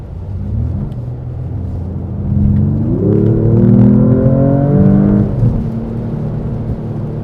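A 2026 Mercedes-AMG E53 in Sport Plus mode accelerates onto the Autobahn. Inside the cabin a steady engine drone swells into a loud rising pull for about two seconds, then settles back to a cruising rumble.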